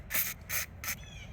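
Three quick bursts of WD-40 penetrant hiss from a can onto a seized upstream O2 sensor on a 2015 Jeep Patriot 2.0, close and fairly quiet, with a faint rub or scrape after.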